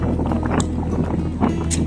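Steady wind rushing and buffeting outdoors at a lakeside baywalk in Calamba, Laguna, a constant low roar with gusts and faint background voices.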